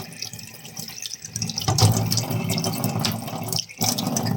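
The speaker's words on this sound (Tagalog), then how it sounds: "Hugasan natin para malinis" Water runs from a kitchen tap while sweet potato leaves are rinsed, a continuous close splash broken by a few sharper handling noises and slight shifts in the flow.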